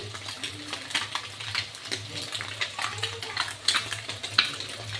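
Chopped carrot, green chilli and cabbage stirred into egg rice frying in a pan, with soft repeated scraping and light sizzle throughout.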